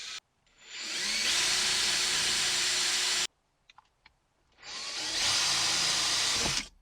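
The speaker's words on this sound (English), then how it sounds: "A couple little small holes for pilot holes" A power drill bores small pilot holes for an overhead Molle panel in a Jeep, two loud sustained whirring runs separated by a pause with a few clicks between them.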